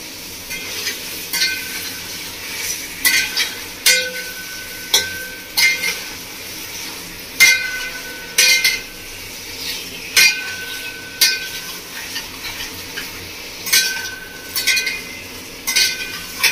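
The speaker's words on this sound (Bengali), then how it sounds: "লবণ দিয়ে এবার 5 মিনিট মতো এভাবে কষিয়ে নেবো।" Mutton with salt being stir-fried village style for kosha with taro in a pan: steady sizzling under repeated spatula scrapes and clinks against the pan, close and regular, with no talking.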